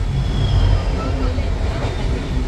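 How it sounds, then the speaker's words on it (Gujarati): A train rumbles and clatters steadily nearby, heavy low-end noise with faint rail squeals above, continuous for the whole stretch. "અને ટ્રેન્ડું ની સટરા સટડી નીકળે જો"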